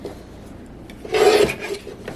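A paper trimmer slicing through a handmade Valentine's card gives one short rasping cut in the middle of an otherwise quiet moment, with faint soft handling before and after.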